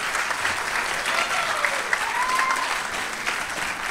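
Sustained applause from a sizable audience at a community college awards ceremony, dense and even clapping that holds at a steady level the whole time.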